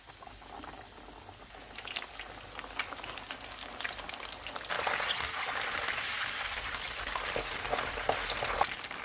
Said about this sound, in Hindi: अब इसमें हम फ़िश के पीसेस डाल देते हैं।